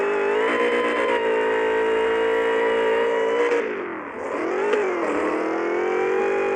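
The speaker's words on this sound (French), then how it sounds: "Petit dérapage sur le sable, ça fait bien." In a driving school video game, a car engine whines at high, steady revs, then dips and swells as the car skids on sand. The sound is continuous, with no voices.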